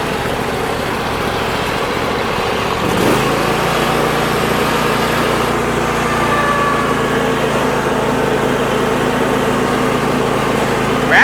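Husqvarna or Craftsman riding lawn mower engine idling nearby, a continuous steady drone that shifts slightly in pitch partway through and then runs on evenly at moderate loudness.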